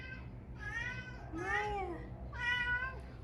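A house cat meows three times in drawn-out, rising-and-falling calls, close and clear over a low steady hum, with brief pauses between each cry.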